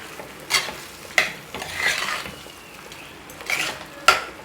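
Spoon stirring spice masala powder into pepper chicken curry in a pot, soft scraping strokes with a few sharp clinks of metal against the pan, close and fairly quiet.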